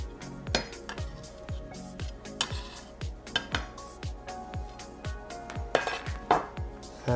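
Knife chopping a red onion on a cutting board, a quick run of sharp, evenly spaced knocks close up with a few slightly uneven strikes.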